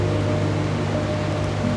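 Waterfalls on a river at the Laos-Cambodia border make a constant, dense roar of falling water, loud and steady throughout with no voices.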